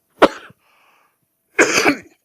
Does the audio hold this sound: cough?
yes